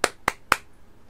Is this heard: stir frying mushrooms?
no